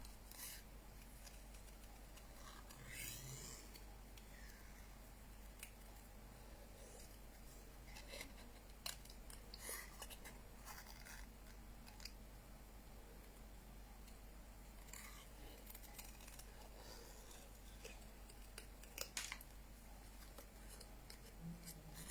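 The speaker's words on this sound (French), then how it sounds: "moi j'avance le ciseau et le papier tourne" Scissors snip through paper while the sheet is turned to cut out a shape, giving faint, intermittent crisp cuts and rustles close by, with no talking.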